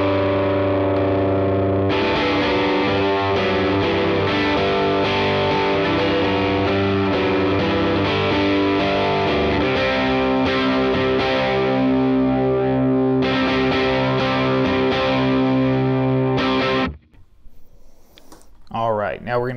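An electric guitar through a Fuzz Imp fuzz pedal with a clean EQ boost engaged rings out in sustained, heavily distorted chords for about seventeen seconds before cutting off into brief quieter noise.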